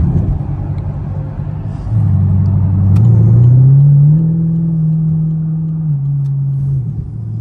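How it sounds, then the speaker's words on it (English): A Jeep SUV passes close by in traffic, its engine rumble swelling loudly and rising in pitch as it goes by, then easing off. "I'm just gonna let this Jeep pass"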